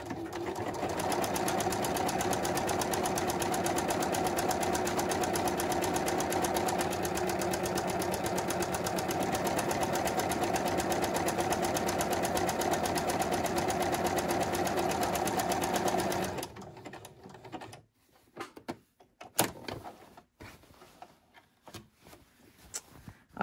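A sewing machine runs continuously and loudly for about sixteen seconds while stitching buttonholes, a fast, even mechanical whir. It then stops, leaving scattered quiet clicks and handling noises.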